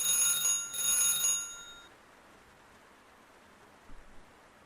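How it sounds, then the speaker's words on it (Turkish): Telephone ringing in the horror game Light Switch, a bright electronic ring repeating in short bursts for under two seconds, then fading to faint background hiss with a couple of soft knocks. "Ring ring ring ring ring ring telefon."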